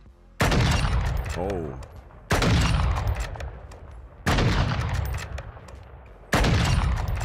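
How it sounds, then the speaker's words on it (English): A LAB-330 sniper rifle fires on a Call of Duty Modern Warfare II firing range, four heavy, evenly spaced booming shots about two seconds apart, each with a long rolling tail, and a brief voice between them. "LAB-330 sniper rifle."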